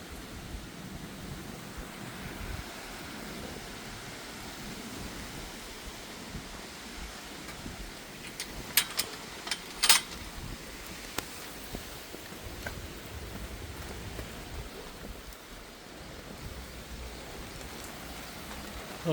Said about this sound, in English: It's starting to drizzle. It looks like it's gonna rain pretty hard.